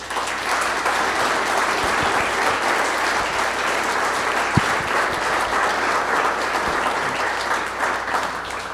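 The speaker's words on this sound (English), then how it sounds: "So please give a round of applause for our panelists." Audience applause for panelists after a Q&A session, a steady, even roar of many clapping hands lasting throughout at moderate loudness, with a single sharper clap standing out midway.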